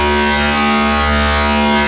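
A sustained FM synth Reese bass tone with a slow, subtle wobble, steady and loud throughout with no voices.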